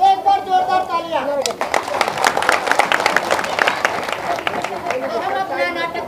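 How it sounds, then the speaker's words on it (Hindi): Audience applause at an outdoor play performance in Kamla Nehru Park, Gurgaon: a burst of clapping breaks out after a voice and builds into dense, steady applause, then fades as talking resumes near the end. "एक बार जोरदार तालियां"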